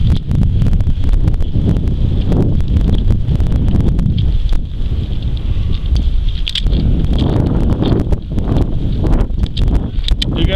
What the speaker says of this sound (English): Very windy. So it's going to be a windy evening, looks like.